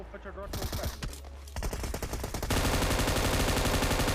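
Rapid gunfire from a battle royale shooter game, busy bursts that build into a dense, continuous loud barrage in the second half, with some voice-like sound mixed in early on.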